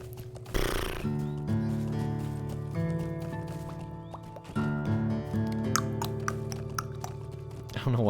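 A man imitates horse neighs and whinnies, close and loud, with drawn-out tonal calls broken by a short burst near the start, against a fantasy game's wilderness setting.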